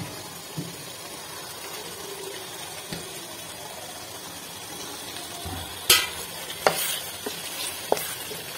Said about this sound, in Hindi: इसे हमने फ्राई कर लेना है, जैसे ऑयल इसका बाहर आएगा।